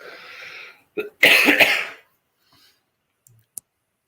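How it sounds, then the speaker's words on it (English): A single sharp cough bursts out after a brief breathy sound, followed by quiet and a couple of faint clicks. "I'm going to cough again."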